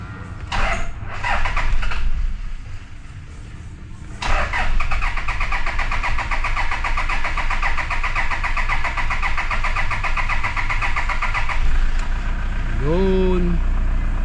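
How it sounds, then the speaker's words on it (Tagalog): A Toyota Fortuner with a check-engine fault cranks hard for several seconds in uneven bursts before catching. It then settles into a steady, close idle while voices are faintly heard nearby. "Start ko na. Medyo hard starting pa to mga sir"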